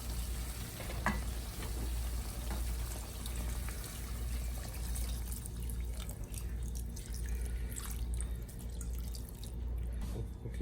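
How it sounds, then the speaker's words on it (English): Water is poured into a pot of Guyanese duck curry and brought back to the boil, producing a steady close bubbling and sizzling with occasional drips and stirring noises and no talking. "Now we'll add more water to let it boil longer."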